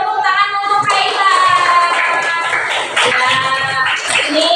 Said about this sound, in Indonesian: beri tepuk tangan untuk Kaila.